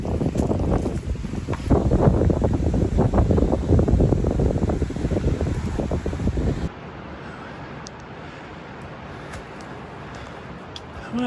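Strong wind buffets the microphone at a campsite in Waterton near the Canada-US border, roaring loud and gusty for several seconds before dropping abruptly to a much quieter hiss.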